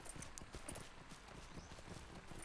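Horse hooves clip-clop in a steady trotting rhythm, moderately close, over a soft background wash, in the video game Lord of the Rings Online.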